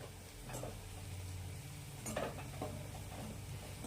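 Spices, chilli powder, coriander powder and asafoetida being sautéed in oil in a pan for a rustic spinach dish, with a steady low sizzle and a few scraping stirs and utensil knocks.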